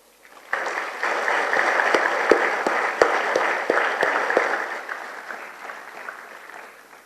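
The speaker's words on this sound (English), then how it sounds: "I think they all deserve a big applause now" Graduation day audience applauding in a large hall, a dense wash of clapping that swells in quickly, holds steady with a few sharper claps standing out, and gradually thins toward the end.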